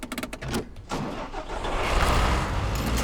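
A tractor engine in the SnowRunner video game cranks and catches after a brief stutter, then settles into a loud, rising rumble that holds steady to the end, with no talk.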